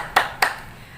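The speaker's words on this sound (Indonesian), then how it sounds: "Tepuk tangan dong buat kita semua." Two sharp hand claps close by in a morning classroom, spaced about a quarter second apart, with quiet room tone before and after.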